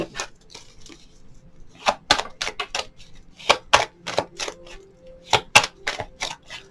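Tarot cards are shuffled and pulled during a reading, a string of crisp, sharp flicks and slaps arriving in irregular clusters, close and fairly quiet, with no one speaking.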